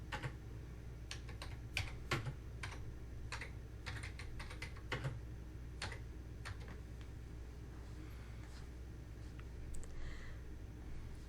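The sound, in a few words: typing a command on a computer keyboard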